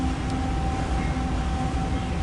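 CSX freight train of empty coal cars rolling past, a steady rumbling clatter of wheels on rails with a faint sustained tone, heard close and continuous without talk.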